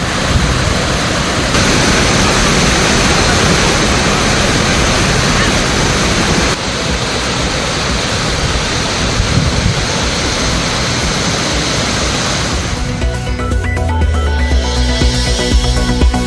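Floodwater rushing through flooded villages in Uthangarai, Krishnagiri district, after record cyclone rains, a dense continuous roar of moving water that stays loud throughout before breaking into a different, choppier texture near the end.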